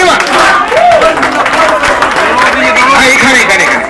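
Loud, dense audience applause with crowd chatter mixed in at a Bollywood mimicry stand-up comedy show, sustained and unbroken throughout.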